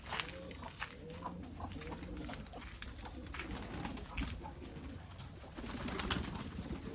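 Pigeons coo steadily close to their cage, with soft repeated calls over outdoor background noise and light patter.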